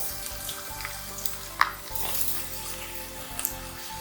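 Food sautés in a hot pan until golden, with a continuous soft sizzle and a few brief metallic clinks of a spoon stirring against the pan.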